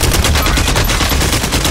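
Machine gun fire in Call of Duty Modern Warfare rattles loud, close and continuous in a rapid stream of shots with no pause.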